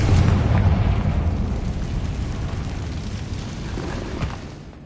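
A loud, rumbling blast from the Confringo spell in Hogwarts Legacy, a burst that opens at full strength and then decays into a long, dense roar over several seconds.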